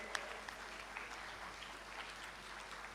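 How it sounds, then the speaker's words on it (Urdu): Faint, distant applause from an audience at an orphan solidarity event organized by IHH and AlKhidmat Foundation, a soft steady patter of many hands with a few sharper claps standing out. "بہت سی تالیوں میں ان کا شکریہ ادا کرتے ہیں"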